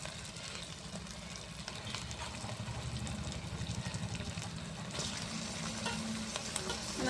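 Chicken pieces fry in spiced oil for a Bengali chicken curry, giving a steady, dense sizzle that continues throughout and swells slightly toward the end, with no voices.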